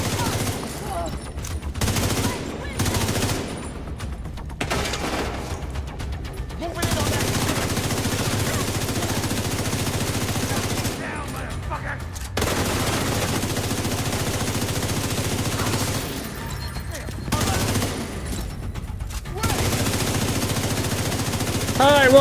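Bursts of gunfire in The Division's Brooklyn combat, with rapid shots in several clusters over a steady battle din, loud and close, with voices talking in places.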